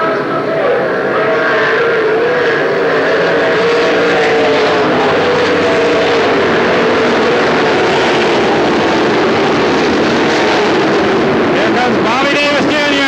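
Sprint cars race at Knoxville Raceway in a dense, continuous roar of engines filling the track, loud and unbroken, with a race commentator talking over it.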